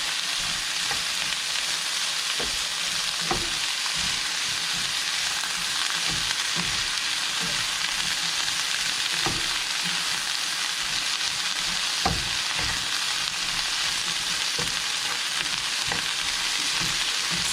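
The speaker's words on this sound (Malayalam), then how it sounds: "സവാള വേഗം വഴന്ന് കിട്ടാനായിട്ട് ഉപ്പ് ചേർക്കുക" Onions sautéing with salt in a hot pan for a coriander chicken dum biriyani, giving a steady, loud broadband sizzle throughout with scattered soft clicks and scrapes of stirring, no talking.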